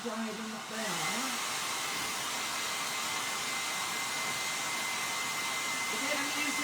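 A handheld hair dryer blows continuously at close range, a loud steady whooshing roar used to dry greyboard craft flowers. It holds an even pitch after a brief dip near the start, and no one speaks.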